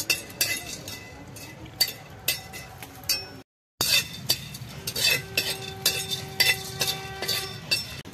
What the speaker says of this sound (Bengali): এটাকে ফার্স্ট ভেজে নেবো শুকনো খোলায় একটুখানি, যাতে বাটতে সুবিধা হয়